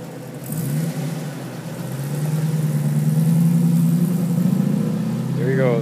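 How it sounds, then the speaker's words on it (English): A 1969 Camaro pro touring car pulls away, its engine note rising and swelling steadily as it drives off, moderately loud and fairly close, with the engine heard alone. "We'll hear the car drive off."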